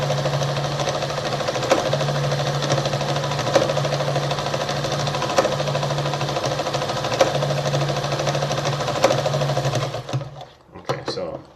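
An Adler 489A sewing machine runs at an even, rapid mechanical chatter with a steady hum for about ten seconds, loud and close, then stops abruptly, leaving a few faint clicks.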